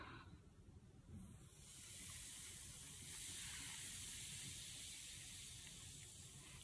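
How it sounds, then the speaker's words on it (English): Vinegar dripped on snow gives a steady soft fizzing hiss that swells after a second and holds, faint and close, with no talking. "Could you hear it fizz?"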